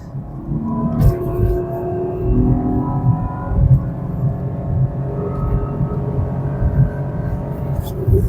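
A 2025 Suzuki Dzire Hybrid sedan weighing under 1,000 kilograms pulls away from a standstill on a track, its engine giving a steady, close droning hum with low rumble.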